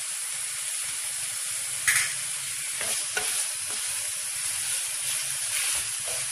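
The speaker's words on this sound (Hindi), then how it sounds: "अब मैं इसमें लहसुन अदरक का पेस्ट ऐड कर रही हूँ।" Chicken frying in a pan with garlic ginger paste while it is stirred, giving a steady sizzle with occasional scraping stirs and a few sharper clinks.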